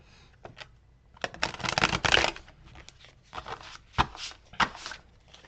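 Deck of tarot cards being shuffled and cut by hand, quick riffling flutters and soft slaps in several uneven bursts, close and clear with no talking.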